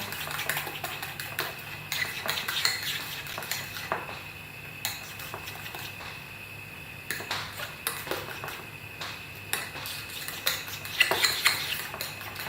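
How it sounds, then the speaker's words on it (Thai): A spoon and fork beat a creamy lime salad dressing in a bowl, giving a steady, soft clatter of metal against the dish with occasional brighter clinks, close and continuous. "ใช้ช้อนส้อมตี นิดเดียวก็ได้กินเลย"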